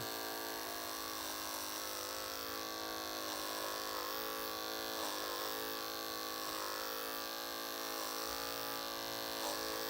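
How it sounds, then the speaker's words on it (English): Detachable-blade hair clippers running during a high fade haircut, a faint, steady electric buzz with a constant hum throughout, no talking. "So I don't make any abrupt movements with the clipper."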